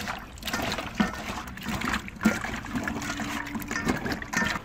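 Water running and trickling from a tap into a bowl of chicken feet being rinsed, with occasional splashes and knocks, close up and unbroken.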